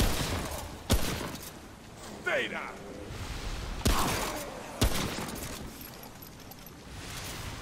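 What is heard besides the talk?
gunfire in video game Remnant: From the Ashes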